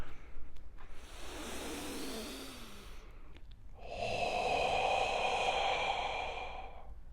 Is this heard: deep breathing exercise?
yes